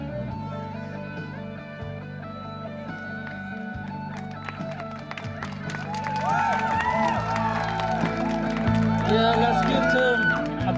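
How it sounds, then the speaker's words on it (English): Audience at a singing competition result announcement breaks into applause, clapping and cheering swelling over a spoken announcement through a PA system. "Round of applause."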